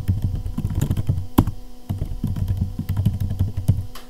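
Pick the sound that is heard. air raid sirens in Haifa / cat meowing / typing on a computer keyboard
typing on a computer keyboard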